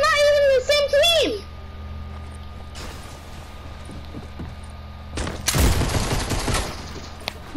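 Gunfire in the video game Fortnite: a dense burst of rapid shots erupts near the end, following scattered single shots and a short stretch of game noise, with a brief voice at the start.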